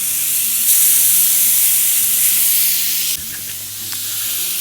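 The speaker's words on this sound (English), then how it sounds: "our burgers look like they're forming a nice crust, so I'm going to flip these over" Smash burgers sizzle hard on a flat griddle, a loud continuous frying hiss that drops briefly as a patty is flipped, then resumes, close-up with faint background music.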